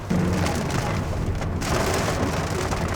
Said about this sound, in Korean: 유리창에 빗소리가 너무 크게 들려요